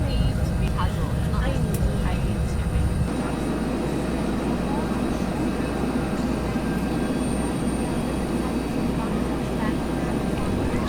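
A Bell 412 helicopter in the X-Plane 11 flight simulator gives off a steady droning engine and rotor hum throughout, deepening after a few seconds as it gains speed, with someone talking over it.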